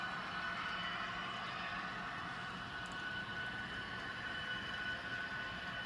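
A steady rolling rumble with a faint metallic whine as a long model train of grain cars runs continuously along a layout track, fairly quiet and unbroken.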